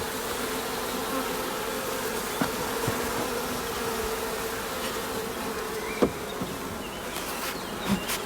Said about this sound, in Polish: Na chwilę obecną pszczoły są tutaj zamknięte.